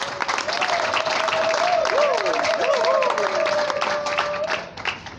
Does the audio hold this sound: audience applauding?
yes